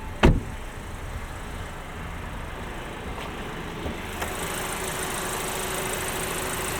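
A 2026 Audi Q3 S Line Quattro engine, 255 horsepower, idles quietly and smoothly, a low steady hum, with a brief click near the start and a faint knock later.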